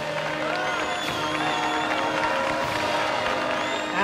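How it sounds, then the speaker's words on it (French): A crowd applauds and cheers after a Tourist Trophy road race, a steady dense wash of clapping and whoops, fairly loud and continuous throughout. "Ils ont bien mérité ces applaudissements."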